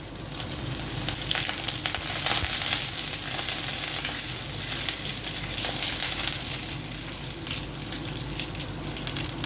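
Curry leaves crackle and sizzle hard in hot oil in a pan, a loud, dense spitting hiss that continues steadily throughout without talk.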